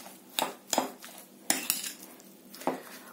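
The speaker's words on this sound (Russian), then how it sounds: "И тоже это все перемешиваем," A spoon stirring a thick batter of cottage cheese and semolina for syrniki in a bowl, with a handful of distinct clinks and scrapes at an uneven rhythm, close and fairly quiet with no talking.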